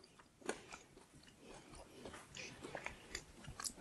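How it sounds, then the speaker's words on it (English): Someone bites and chews small shards of crunchy, flaky pie crust, making close, faint, irregular crunches that grow louder toward the end, with no talking. "And I'm gonna try these little shards of crust."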